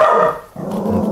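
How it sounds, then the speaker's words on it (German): A dog lets out a loud, close bark that drops into a low, rumbling growl, all within about a second and with no one talking. "Und das ist der Hund."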